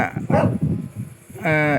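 Dogs at a neighbouring house barking in a few short yelping bursts, mixed with someone talking over them, the barks fairly loud and close.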